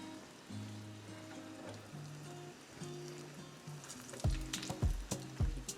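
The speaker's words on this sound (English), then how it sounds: "Let this just fry up on each side for about 30 seconds or so." Potato tacos fry in hot oil in a pan with a soft, steady sizzle under background music; louder crackling bursts rise near the end.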